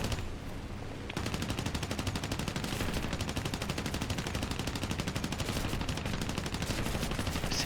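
Tail gunners on a large bomber fire in a World War II flight video game as a loud, continuous rapid burst of machine-gun fire. It starts after about a second of quieter engine sound and never lets up.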